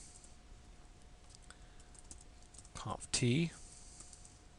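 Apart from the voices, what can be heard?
typing switch commands on a computer keyboard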